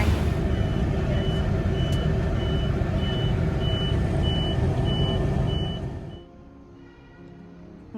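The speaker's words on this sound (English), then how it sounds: "Okay, so this is my bus." A bus arrives and sounds its reversing alarm, a run of evenly spaced, high electronic beeps over a heavy engine rumble that cuts off abruptly near the end, leaving a quiet idle.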